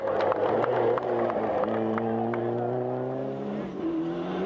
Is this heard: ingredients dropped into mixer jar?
no